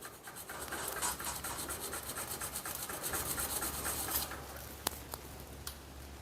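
Abrasive rubbing on the restored tip of a Bell System screwdriver to clear a burr left by reprofiling, a quick steady rasping scrub repeated in short strokes, close and fairly quiet, with a couple of sharp ticks near the end.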